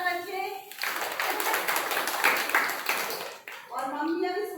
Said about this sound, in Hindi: वेरी गुड, ताली बजाओ सारे बच्चे।